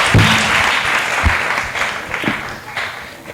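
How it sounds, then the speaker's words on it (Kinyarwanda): Audience applause at a Kinyarwanda-language gathering, a broad steady wash of clapping with a few louder thumps and possible murmured voices mixed in. "reka tumwongere amashyi menshi"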